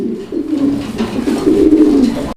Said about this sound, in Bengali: একদম দুর্দান্ত কোয়ালিটির একজোড়া ডেনিশ কবুতর